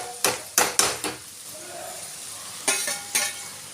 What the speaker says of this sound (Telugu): టమాటాలు వేసుకొని కలుపుకొని మూత పెట్టుకున్నాం.